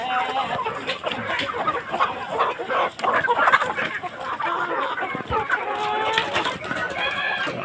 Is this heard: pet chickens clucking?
yes